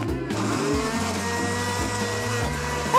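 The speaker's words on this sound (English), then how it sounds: "I'll put it in the blender." A kitchen blender whirs through banana, kiwi and raspberries, its motor pitch stepping up and down in short pulses, loud and close with no talking.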